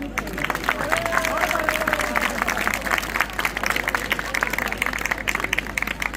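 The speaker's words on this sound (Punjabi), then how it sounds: "ਤਾਲੀਆਂ ਲਾਓ" Crowd clapping steadily at a Mahashivratri procession in Adampur, dense broadband claps running throughout amid outdoor hubbub and chatter, with a faint tonal sweep early on.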